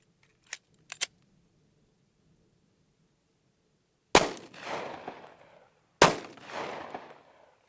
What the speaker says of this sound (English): fire the same 155 grain Hi-Shok through the same G23 through 4 layers of denim